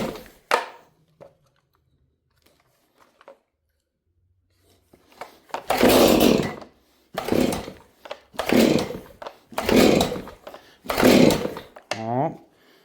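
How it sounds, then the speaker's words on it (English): A saw cutting a piece in half, probably a chainsaw, heard in short loud bursts after a quiet stretch with some brief speech at the start. "I guess I could probably do it in here with the saw"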